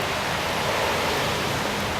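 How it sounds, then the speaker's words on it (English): Fast floodwater runs along a road near Opdyke, a steady broadband rush like a stream or small waterfall, loud and close, continuous throughout with no talk. "This is all the water flowing in off of Opdyke."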